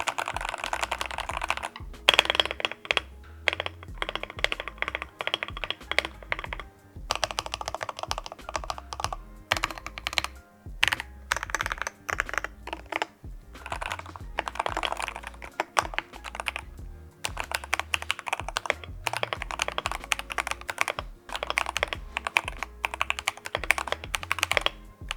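Typing on an Arbiter Polar 65 Pro hall effect keyboard with an aluminium plate and silicone dampening, a rapid, continuous run of close keystroke clacks in bursts with brief pauses.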